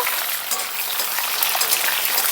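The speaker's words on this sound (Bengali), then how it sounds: "আলুটা ভাজা হোক" Cut potatoes frying in oil in a pan for shukto, a dense, even hiss of sizzling that holds steady and close throughout.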